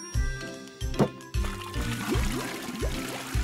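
Water splashes and trickles as it is poured from a pot into a doll's bath, set against steady rhythmic background music.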